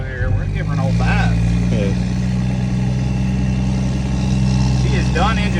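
Ford F450 truck's engine running as it pulls out toward concrete or gravel, a loud steady low throbbing drone close by, with someone talking over it.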